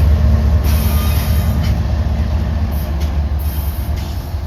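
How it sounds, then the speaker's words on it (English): Locomotives of an ethanol train backing slowly past in a rail yard make a loud, steady, close diesel rumble that holds through the whole stretch, with faint higher hiss bursts above it and no talking. "the ethanol train right beside it would start backing up, so I got video of its engines passing it"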